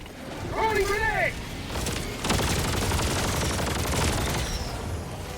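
In Helldivers 2, a thrown grenade detonates with a sharp blast that gives way to a sustained roar and rumbling debris, a burst of gunfire crackling around it and the game's noise carrying on throughout.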